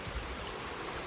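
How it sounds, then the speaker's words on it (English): A river flows along the Appalachian Trail, a steady broadband rush of moving water heard close and continuous, with no voices over it. "river."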